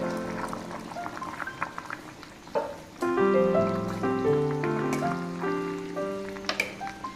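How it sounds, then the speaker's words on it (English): Tamarind water is poured into a simmering prawn curry with bottle gourd. The liquid splashes and trickles close by, shifting in pitch as the pan fills, with no talking. "So now we will be adding some tamarind water."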